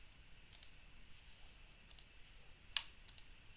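Faint, sparse clicks from a computer mouse in a quiet room, about five short taps spread unevenly, with no talk.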